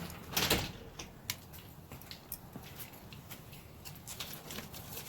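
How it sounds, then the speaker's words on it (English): Metal door on a charcoal smoker being shut during a mesquite charcoal turkey breast cook: a faint scrape and clunk near the start, then scattered small ticks and taps over a quiet outdoor background. "Let me close this door here."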